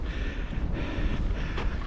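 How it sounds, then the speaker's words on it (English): Steady gusty wind buffeting the microphone at Cissbury Ring on the south coast of England, a low rumbling roar with no talking. "It's a bit windy."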